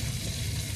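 Beef short ribs sizzle steadily in a pan of hot oil while browning, a dense, even frying hiss that stays constant and close throughout.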